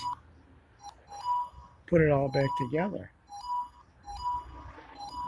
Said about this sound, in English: that noise is the stupid phone.